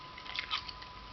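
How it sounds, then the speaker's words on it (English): Gum chewing close to the microphone, a few soft wet squishing chews in quick succession over a quiet background. "gum chewing"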